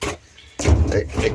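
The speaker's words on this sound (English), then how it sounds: "it's windy and the door keeps banging and squeaking" A sharp door bang cuts in after a quiet moment as wind blows the door, followed by rattling and knocking with a low rumble, close by.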